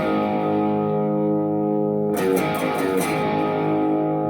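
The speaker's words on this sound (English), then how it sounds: "a little bit of distortion, but not really loud." Sustained, buzzing distorted electric guitar chord ringing out, with a brief burst of strummed noise partway through before the chord settles again.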